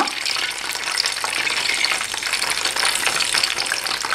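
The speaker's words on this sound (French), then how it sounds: "je préfère les faire cuire dans une poêle plutôt que dans une friteuse pour pouvoir maîtriser la cuisson" Nems, Vietnamese spring rolls, fry in a pan of oil over medium heat, a loud, dense, even crackle and hiss close by with no pauses and no talking.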